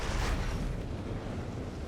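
A large in-game explosion in Armored Core VI: Fires of Rubicon, a loud, sustained broadband roar with a heavy rumbling low end that swells at the start and then holds steady throughout.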